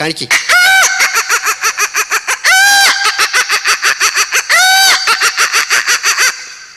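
A man on a comedy stage show vocally imitates a rooster, loud close repeated crowing calls with rapid clucking pulses in between, several long crows in a row.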